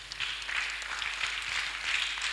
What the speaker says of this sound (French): Donnons une forte acclamation au Seigneur.